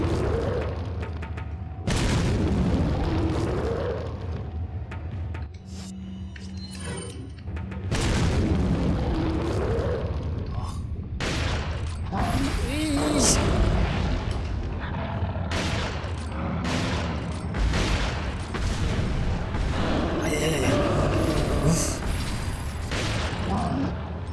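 Grenade explosions in a fully remastered Resident Evil 4 HD Project, chapter 4-2: repeated heavy booms and sharp blasts, some layered with gunfire and clanking, burst loudly and close in a busy battle over about twenty seconds.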